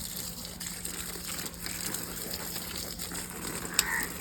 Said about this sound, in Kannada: ನಮ್ಮ ಕೃಷಿಗೆ ನೀರು ಹಾಕ್ತಿದ್ದೇನೆ